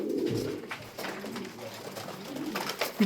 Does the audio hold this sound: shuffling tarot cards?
no